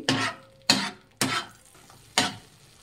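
Eggs frying in a pan are stirred and mixed in four distinct, evenly spaced bursts of sizzle and scraping, each fading quickly, faint and close.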